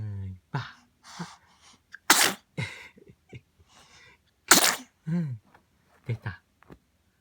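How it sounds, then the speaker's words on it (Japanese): A baby sneezes several times in sharp bursts, one after another, with soft vocal noises and an adult voice talking quietly between them. "くしゃみいっぱい出たね。"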